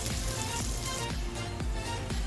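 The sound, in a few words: sautéing red peppers, onion, garlic and lemongrass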